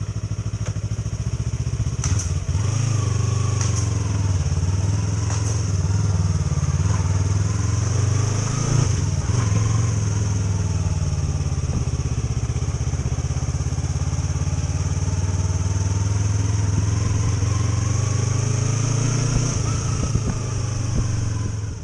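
Yamaha R3 motorcycle fitted with an aftermarket exhaust, its engine droning steadily and loudly throughout, with a deep low rumble, a few rises in revs and some clatter and thumps.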